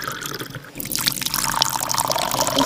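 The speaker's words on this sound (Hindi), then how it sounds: "टुन्नी और टोनी नदी किनारे से पानी भरकर मटकों में खेतों में डाला करते हैं।" In a cartoon, water is poured from clay pots onto fields, starting after a brief quiet moment and then running as a steady splashing, trickling stream.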